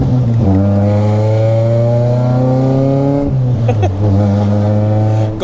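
Nissan Pulsar SSS accelerating hard, a loud steady engine drone with harmonics that climb gradually, dropping briefly around a gear change before pulling again, close and continuous with no talking.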